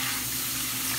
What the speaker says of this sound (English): Pour it in a little bit at a time so that you can get the proper desired thickness of your gravy.